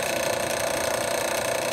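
Drill press running at its slowest speed in a workshop where a Harley Sportster trailer hitch is being built, a steady mechanical hum and whir held evenly and fairly loud, with no talking.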